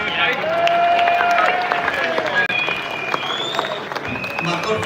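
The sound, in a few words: crowd applause at protest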